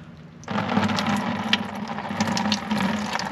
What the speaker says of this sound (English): We're gonna pour this all over him.